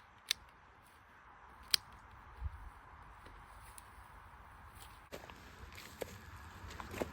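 Garden snips cutting spent flower stems on a flower farm, with a handful of crisp, faint clicks spaced a second or more apart over soft rustling and footsteps outdoors.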